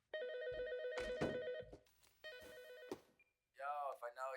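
A telephone rings in a Breaking Bad episode with repeated bright, electronic ring bursts, and a voice is heard near the end.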